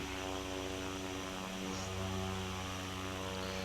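Propeller aircraft engine in a flight simulator video game, a steady droning hum at a constant fast pace, heard alone without talk.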